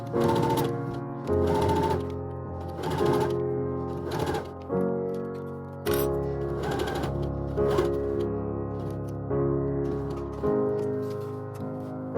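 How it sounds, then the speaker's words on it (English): A sewing machine top-stitches a dress seam along the underbust line of a frill dress, running in repeated short bursts with brief pauses between them, steady and close by, with no talking. "top stitch along the underbust line and press if need to"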